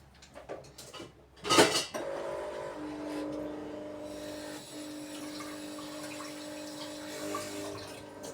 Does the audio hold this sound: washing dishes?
yes